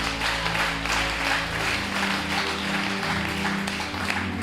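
A church congregation applauds in a steady, dense burst of clapping that stays even throughout, with music or background tones running underneath.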